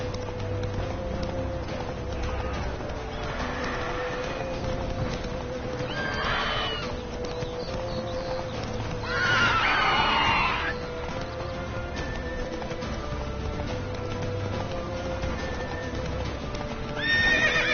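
Roach, a horse in a video game, gallops with continuous rapid hoofbeats and gives several loud, close neighs and whinnies over a steady background, with no talking.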